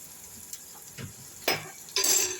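Garam masala being stirred into a mushroom curry in a kadai: a spoon scrapes and clinks against the metal pan a few times, up close, with light sizzling and no speech.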